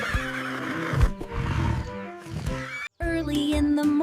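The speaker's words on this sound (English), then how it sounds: "and the horse says, Neigh." A horse neighs in a long, shrill whinny that rises and falls, fairly loud and close, within a children's farm-animal learning song.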